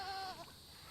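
A single short bleat from a goat near a farm pen, faint and brief, fading into quiet background noise.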